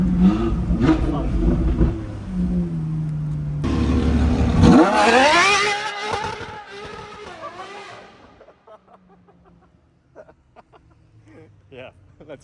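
A Dodge Viper starts with a low idling rumble, then revs hard into a loud, rising acceleration that fades away as it pulls off, on a road trip to Monaco. People talk near the car throughout.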